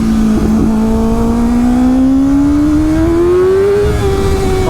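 A Kawasaki ZX6R fitted with a LeoVince exhaust revs loudly nearby, its engine note climbing in one long rising sweep before leveling off, with no talking.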